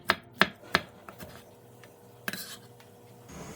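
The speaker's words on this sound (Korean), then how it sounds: "오이와 양파는 얇게 채 썰어주고 대파와 청양고추는 쫑쫑 썰어주세요." A knife chops through cucumber, onion, green onion and chili peppers on a cutting board, three sharp close thuds in quick succession, then a few softer taps and one more crisp strike.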